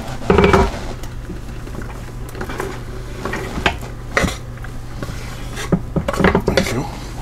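A wooden spoon scrapes and knocks through pulled pork with horseradish in a slow cooker pot, irregular close clunks and rubbing strokes with quieter stirring between them.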